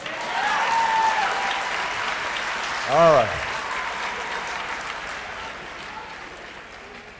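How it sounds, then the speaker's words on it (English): A crowd at a political campaign gathering breaks into a sustained round of applause, loud and dense, with a man's brief remark near the start and a short whoop standing out midway. "Give them a round of applause."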